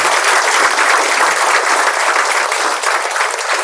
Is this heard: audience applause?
yes